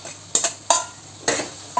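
A spoon scrapes through fried jackfruit as it is stirred into tomato masala in a pan, giving a few sharp, close stirring strokes with short gaps between them.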